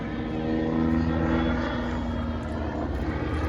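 A Messerschmitt-Bölkow-Blohm Bo 105 helicopter performs at the Central Coast Airshow at Santa Maria Airport, giving a loud, steady engine and rotor drone with layered tonal whine, close and continuous.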